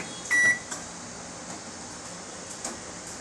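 Oven being set for a chocolate truffle cake bake, a single short electronic beep followed by a soft, steady appliance hum with faint clicks, quiet and close.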